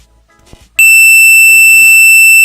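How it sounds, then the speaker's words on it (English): A high-pitched electronic beep comes through a phone call: after a brief faint rustle it starts abruptly and holds as a loud, steady continuous tone, with muffled background noise beneath it. "I picked up, and it was just a beep"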